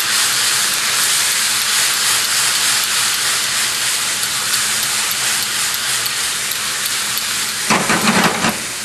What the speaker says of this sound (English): I'm going to let the liquid, the vinegar and the liquid from the capers reduce just a little bit